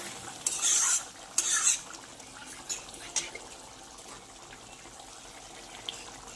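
Prawn malai curry stirred in a pan, several close bursts of scraping and wet squelching from a spoon, then a few lighter taps over a soft simmer.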